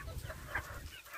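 Free-roaming chickens scratching and flapping outside their coop during cleaning give short clucks and a brief squawk over a low rustling background, fairly close and moderately quiet.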